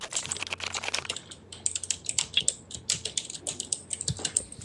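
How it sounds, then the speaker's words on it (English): Rapid typing on a computer keyboard, close and clear, with an uneven stream of key clicks and brief pauses between bursts. "Who's typing?"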